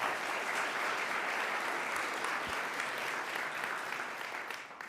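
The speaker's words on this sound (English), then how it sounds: "if we could just have a brief round of applause to recognize all that effort" Congregation applause in a church, a dense steady wash of clapping lasting a few seconds at moderate level, with no talk, fading slightly at the end.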